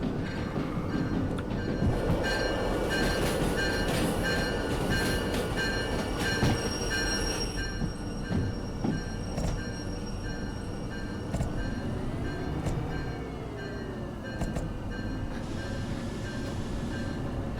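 A simulated EMD G16-based diesel locomotive from Derail Valley, with a 16-cylinder, 148-litre diesel engine, runs steadily under continuous rail rumble and wheel noise, with metallic squeals and clanks mixed into a dense, sustained mechanical roar.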